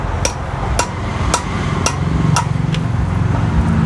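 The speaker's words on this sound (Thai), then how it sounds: "ก็จะใช้เป็นค้อนเหล็กนะคะเห็นไหมคะกับสกัดตัวเดิมสกัดใบมีดค่ะ" Steel hammer striking a chisel blade to cut copper winding wire out of a 220-volt single-phase household electric motor being repaired, six or seven sharp metallic blows at a steady rhythm, close and loud over a low hum.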